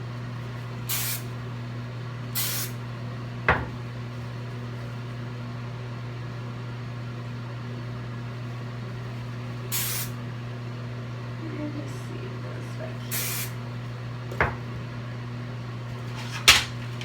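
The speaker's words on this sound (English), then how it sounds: "See how I'm kind of spraying it and pulling it apart to make more volume?" Short bursts of hairspray hiss out in separate puffs, about eight across the stretch, over a steady low hum from the room, while curly hair is styled into a high updo.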